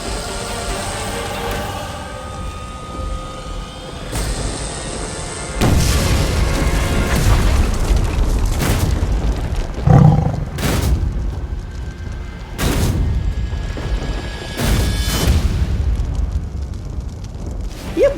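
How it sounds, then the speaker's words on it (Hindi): Magical explosion bursting like fireworks in a Hindi fantasy TV show, a series of loud booming blasts and crackling bursts arriving in waves over a steady low rumble of background effects. "ये भैरानी कैसे उड़ गई आतिशबाजी बनके?"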